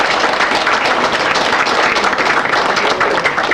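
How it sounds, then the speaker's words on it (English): Applause from an audience at a spiritual talk on Mother Goddess power, a steady, dense wash of clapping filling the whole short stretch with no voices on top. "Let's give a round of applause."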